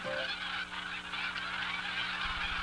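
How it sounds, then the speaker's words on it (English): Migrating waterfowl, likely geese, honk steadily in Louisiana in fall, a dense overlapping chorus of calls from a sizable flock at moderate distance with no talk. "As fall comes on, Louisiana receives its great migrations of waterfowl."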